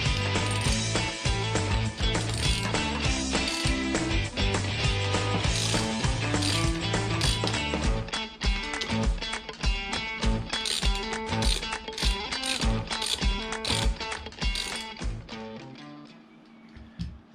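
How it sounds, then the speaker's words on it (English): Rapid, steady clicking of a ratchet undoing a skateboard wheel nut, a dense stream of metallic ticks close up that continues throughout and tapers at the end. "So I'm just going to use a ratchet and"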